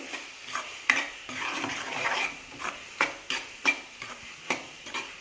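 Maggi noodles coated in masala get stirred in a hot pan, with a soft sizzle under a series of sharp spatula scrapes and taps on the pan that come at a rough, uneven rhythm. Nobody talks.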